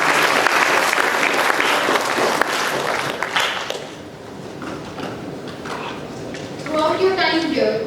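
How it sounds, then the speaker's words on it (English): Audience applause at a medical college passing-out ceremony: a dense burst of clapping for about four seconds, then it thins out as voices and chatter take over, with louder voices near the end. "So let us have a huge round of applause."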